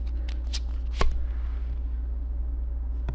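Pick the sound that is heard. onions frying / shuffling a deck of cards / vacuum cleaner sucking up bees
shuffling a deck of cards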